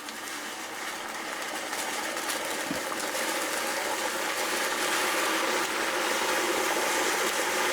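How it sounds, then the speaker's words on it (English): Water bubbling and gushing inside a steam cooker for an easy hangi after five cups of water are poured over meat and tablets, a steady broadband hiss and burble lasting throughout without talk. "You can hear that bubbling."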